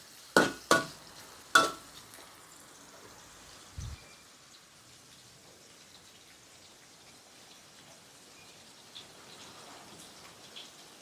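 Bean sprouts and pork belly stir-fried in a pan, opening with a few sharp scraping clanks of the spatula and then a faint, steady sizzle with occasional soft knocks, no talk.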